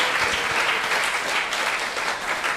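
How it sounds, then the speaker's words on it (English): Steady audience applause fills a temple hall during a Sunday feast, dense and continuous from start to finish with no voices rising above it. "So there's a big round of applause and a big Hari Bol for all the devotees who make our Sunday feast possible."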